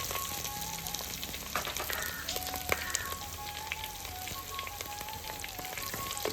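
Garlic and green chili fry quietly in a pan, giving a soft, crackly sizzle with scattered pops and light clinks of a utensil, fairly faint and distant.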